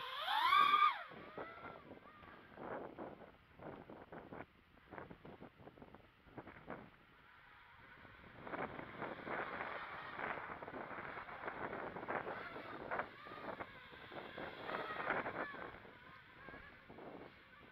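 Wind buffets the microphone in rough, gusting waves, with a brief honking call at the start and a steady whine from an Eachine Wizard X220 FPV drone behind it.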